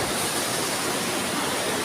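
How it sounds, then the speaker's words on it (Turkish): Fast-flowing river water rushes steadily inside Kaklık Cave, a dense, continuous broadband roar that stays loud and even throughout with no voices. "İşte buradan akan su, nehir böyle devam ediyor."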